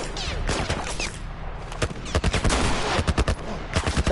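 Gunfire in the video game The Last of Us comes as a run of sharp, loud, close shots, scattered at first and then packed into quick rapid bursts toward the end.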